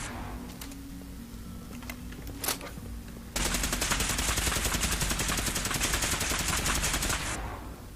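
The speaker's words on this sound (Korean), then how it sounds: "아따 총 잘 쏜다." Sustained automatic gunfire in Fallout 4 breaks out partway through and rattles on loud and steady for several seconds, following a quieter stretch with a few isolated sharp reports.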